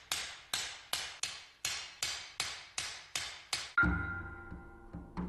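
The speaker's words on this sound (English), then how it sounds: "the steel is lengthened with one small hammer" A swordsmith strikes a steel samurai blade with one small hammer, nine sharp, evenly paced ringing blows close up, then a heavier resonant clang that rings on.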